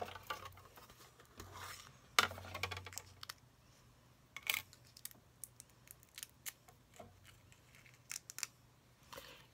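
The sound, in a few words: scissors cutting out a glitter paper piece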